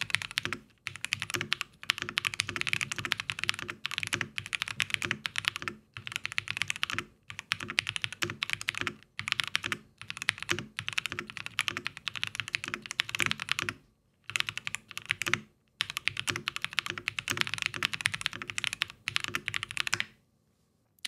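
Typing on a Lemokey mechanical keyboard, rapid bursts of clacky keystrokes in quick runs separated by brief pauses, close and crisp, lasting about twenty seconds with no speech.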